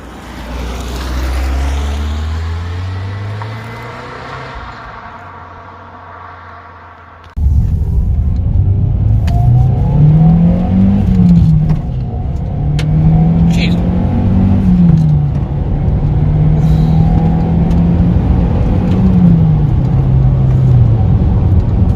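A Toyota Starlet Glanza V Turbo runs loud and close with engine rumble that swells and eases through gear changes. Someone talks over the engine for most of the drive.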